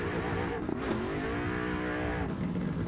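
A 2024 Ford Mustang drift car on a mountain road holds a loud, steady engine drone close up, with a brief dip and rising pitch as the revs climb, and no talk over it.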